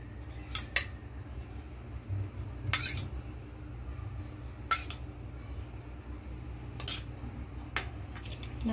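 Halwa stirred in a pan with ghee, heard as a few scattered metallic scrapes and clinks of a spoon over a low steady hum, faint and intermittent.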